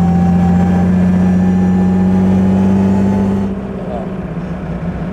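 The engine of a 1927 Mercedes 680S touring car drives at a steady, loud, close drone with a strong low hum, then drops to a softer running note near the end.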